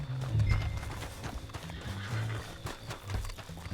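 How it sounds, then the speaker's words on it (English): A horse in Red Dead Redemption 2 Online whinnies loudly after being called, and hooves clip-clop across the ground beneath a low rumble of game ambience. "Call up my horse."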